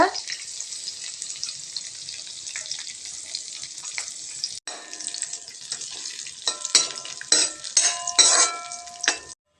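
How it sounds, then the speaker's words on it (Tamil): Cashews roast in ghee in a pan, giving a continuous bright sizzle. Scraping stirs and metallic clinks from a spoon against the pan grow busier toward the end, with no speech. "முந்திரியை அதில் போட்டு பொன்னிறமாக செவக்க வச்சு வறுத்து எடுத்து வச்சுக்கலாங்க"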